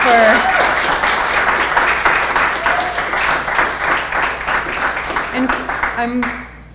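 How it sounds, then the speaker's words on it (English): An audience applauds two young students at a festival theatre season kickoff, a steady round of dense clapping that carries through and tapers off near the end, with a few voices and an instrumental tone surfacing underneath. "I'd like to give them a little round of applause"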